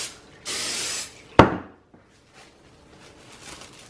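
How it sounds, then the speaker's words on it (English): Cooking spray hisses onto the tops of two loaves of Amish white bread dough in a short, loud burst of about half a second, followed by a sharp click from the can and then near silence. "I'm going to spray the top."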